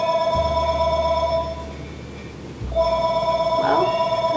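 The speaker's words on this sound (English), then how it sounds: "So, phone's ringing, nice." A telephone rings with a steady electronic trill, pausing briefly and then resuming, heard nearby and clearly, with a faint background murmur.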